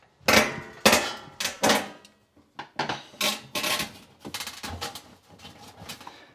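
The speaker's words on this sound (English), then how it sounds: "an easy way to lift the panel is to just go by one of the screw holes" A metal panel on an electric range oven lifted by its screw holes and wiggled loose, a series of sharp rattling scrapes and clunks in irregular bursts, close and fairly loud with short quiet gaps.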